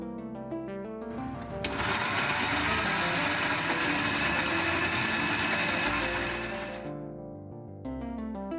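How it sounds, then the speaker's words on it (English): Mixer grinder whirring loudly as it grinds cooled, cooked masala into a thick paste for paneer butter masala, a steady motor roar of about five seconds that starts abruptly and cuts off, with quieter kitchen sounds before and after. "transfer it into a mixer grinder and grind it into a thick"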